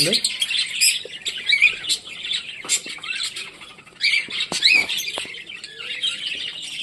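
Pet budgerigars chirp and squawk close by from their nest pot, with bursts of bright, scratchy calls separated by short pauses, plus a few light knocks and rustles.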